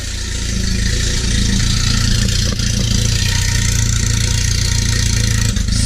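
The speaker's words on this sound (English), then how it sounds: "This car is pretty loud." A cheap Volvo car's engine runs loudly with the hood open, a steady rough idle with a deep low rumble that holds constant throughout and is heard up close with no talking.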